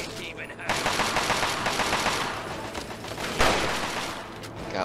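Continuous gunfire in the game Fallout 3, a dense, steady barrage of shots at a moderate level with a louder burst near the end, mixed with faint background voices.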